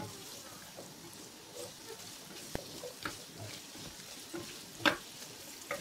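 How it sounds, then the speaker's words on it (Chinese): Diced pumpkin stir-fried in hot oil in a wok, giving a steady low sizzle with scraping stir strokes and a few sharper clatters, fairly close and with no talking. "起锅烧油，放入南瓜丁翻炒一下。"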